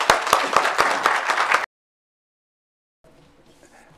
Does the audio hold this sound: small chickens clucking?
no